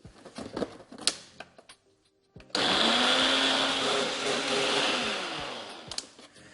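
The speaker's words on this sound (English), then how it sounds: "So you just want to blend this up until it's super smooth." A blender whirs loudly and steadily, puréeing a vegan mozzarella mixture with lemon and garlic, starting abruptly after a few clattering knocks and running continuously to the end.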